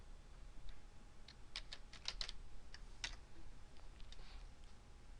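Fingers type on a computer keyboard in a short quiet flurry of key clicks, irregular taps clustered over a few seconds against faint background hiss.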